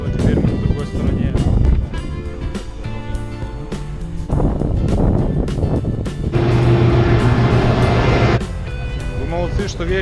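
A car drives onto the bridge over the Kama river near Kambarka, Udmurtia, with steady road rumble and wind noise throughout and people talking over it.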